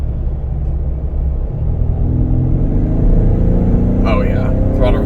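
2021 Ford Explorer Timberline accelerating in sport mode, its engine rising into a loud, deepening rumble from inside the cabin with road noise underneath, and a person talking briefly near the end.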